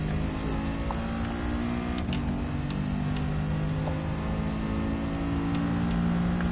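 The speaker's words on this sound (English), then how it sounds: "we've got no engine noise. Now we do." Race car engine in an F1 video game, a steady droning whine with a shift in pitch partway through, continuous and fairly loud, with no voices.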